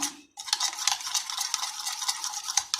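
Stirring a sauce of tamarind pulp and blended mint, a steady close scraping and swishing that runs continuously after a brief pause at the start, with no talking.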